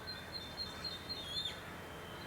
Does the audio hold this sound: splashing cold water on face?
no